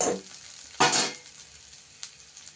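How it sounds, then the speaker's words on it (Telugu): Curd poured into hot oil seasoning in a pan for curd vada, giving a sharp hiss that bursts into loud sizzling, then settles into a softer sizzle with light stirring scrapes. "ఇప్పుడు పెరుగు వేసేస్తున్నాను"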